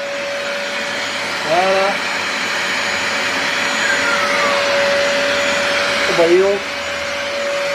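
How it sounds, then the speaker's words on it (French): A Bissell mattress shampoo cleaning machine runs as a steady electric motor whine throughout, loud and close, while a voice speaks briefly over it twice. "C'est un appareil qui permet de shampouiner et nettoyer les matelas et tout ça."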